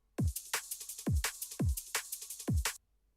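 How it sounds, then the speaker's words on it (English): A short liquid drum and bass loop with four deep booming kicks, each followed by quick ticking hi-hat hits, played alone and ending abruptly. "The ones that say full are literally a full drum and bass loop that you can just put in"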